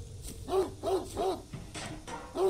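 A dog in the Greyhill Incident video game barks in a quick run of four or five close, loud woofs with short gaps between them.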